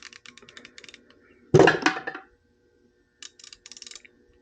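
Clicking of a Snap-on 120 XP ratchet wrench with a dual-pawl mechanism, light rapid ticks near and alone, interrupted midway by a louder clunking handling noise before the quick clicking resumes.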